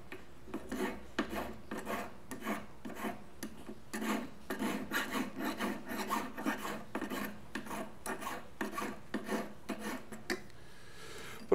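A metal file rasps back and forth across a domed jewellery ring in a steady series of close, gritty strokes, with no talking.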